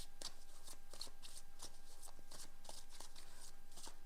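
Tarot cards being shuffled by hand in a quiet room, a steady run of soft, papery riffles and flicks repeating every fraction of a second, close and alone with no talking.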